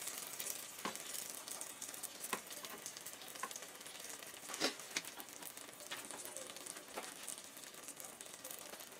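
A low-carb tortilla fries in a hot pan, giving a steady, close sizzle with scattered crackles and pops throughout, heard alone with no talking.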